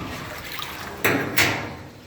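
Water from a test-run sink in a home brewery build pours down the drain into a small sump container, with two distinct gushing surges rising over a steady background wash.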